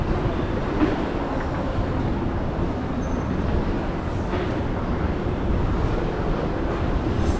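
Los Angeles metro train at Hollywood and Highland station, a steady loud rumbling roar of rolling wheels and underground rail noise throughout, with no speech.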